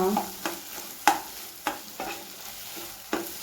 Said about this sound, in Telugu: ఇలా కలుపుకోవాలి ఇలాగే ఇంకో ఫైవ్ మినిట్స్ని పచ్చి స్మెల్ పోయేంత వరకు ఇలాగే బాగా కలుపుకోవాలి